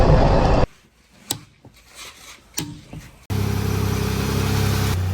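Chevrolet Impala car engine starting and settling into a steady idle, preceded by a quieter stretch with scattered clicks and knocks, then a loud, even running rumble close by.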